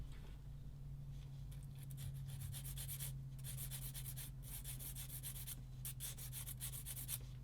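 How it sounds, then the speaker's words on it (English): A sanding stick pulled in repeated short strokes across a plastic part from a 1/35 Mk XXIII submarine model kit, producing a faint, close, rhythmic scratchy rubbing with brief pauses between strokes over a low steady hum. "I'm not pushing on the sanding stick, I'm just pulling it across it just to get rid of that bit of plastic."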